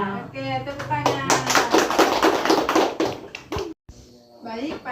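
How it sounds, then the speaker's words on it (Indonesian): A group clapping hands together at a family health session, a burst of quick rhythmic claps lasting a couple of seconds, framed by voices talking before and after. "Oke, tepuk tangan."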